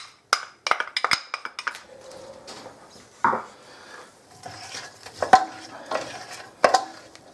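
Onions and garlic being stirred and sautéed in a pan for spaghetti bolognese: scattered wooden and metal scrapes and knocks against the pan at an irregular rhythm, close and fairly clear, with little sizzle underneath and no talking.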